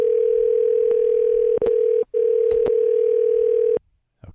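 A steady electronic phone tone drones through the handset, breaking off briefly once amid a few clicks, then cuts out abruptly.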